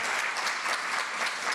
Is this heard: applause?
yes